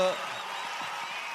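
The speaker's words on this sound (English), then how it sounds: "a round of applause, please" Audience applause for a speaker called onto the stage at a career conclave, a steady wash of many hands clapping at moderate distance, even and sustained throughout.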